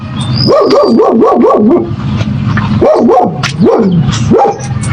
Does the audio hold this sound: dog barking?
yes